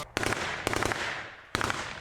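Bursts of rapid gunfire crackle in three clusters during intense front-line combat at Avdiivka, sharp echoing shots from automatic weapons at moderate distance.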